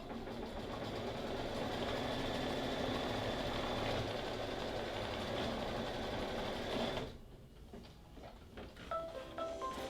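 A computerized sewing machine on a Brother ScanNCut project runs a steady, loud stitching hum for about seven seconds, then stops and leaves faint clicks and small mechanical taps.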